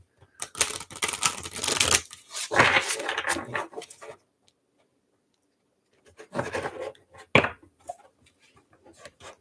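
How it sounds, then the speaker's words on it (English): An oversized tarot deck is shuffled by hand in two bursts of dry, rapid papery riffling and card slaps, close and moderately loud, separated by a quiet pause. "I can't shuffle these cards overhand"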